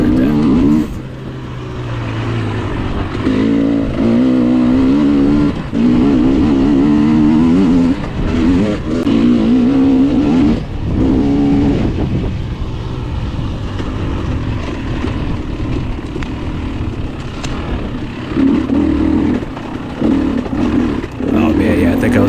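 A KTM 300 dirt bike races a hare scramble, its engine lugging low in too high a gear, a loud close, throbbing drone that rises and falls throughout, with brief talk over it.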